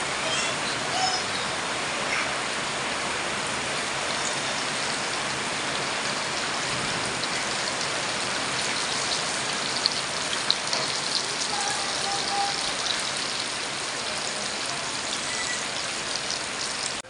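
Steady sizzling of food frying in hot oil, a dense, even crackle that holds without pause and at a constant level throughout, with no one talking.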